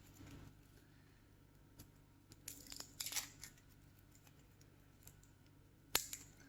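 Garlic cloves for dehydrating trimmed at both ends with a knife, giving a few quiet, close cutting snips and papery skin crinkles scattered over a faint background hum.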